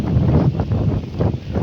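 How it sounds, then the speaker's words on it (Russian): Strong storm wind buffets the microphone in a continuous loud roar, gusting and swelling with rough, rumbling noise throughout. "вот ветер дует у меня, вот усилился"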